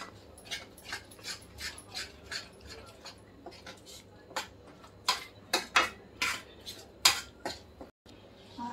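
Coriander powder roasting with spice masala in a pot for chole, heard as a steady run of metal spoon scrapes and clinks against the pot, with faint sizzling underneath and a brief pause near the end.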